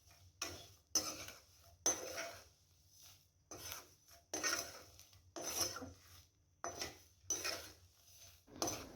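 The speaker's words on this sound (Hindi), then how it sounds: "चमचे की मदद से तकरीबन आप 2 से 3 मिनट तक इसी तरह से हिलाते रहेंगे ताकि पापड़ अच्छी तरह से कुक हो जाएं" Papad is stirred with a spoon in a dry pan, giving faint, close, rhythmic rasping scrapes and light clinks, roughly one stroke every half second to second, with no talking.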